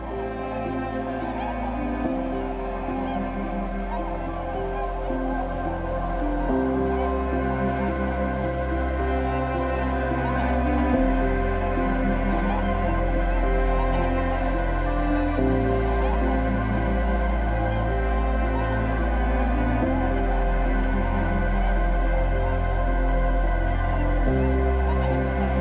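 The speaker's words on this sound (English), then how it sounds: "the most stunning shows of tundra swans and snow geese to be found in eastern America" A dense chorus of tundra swans and snow geese in North Carolina calls continuously, many birds overlapping in a loud, steady clamor with no voices.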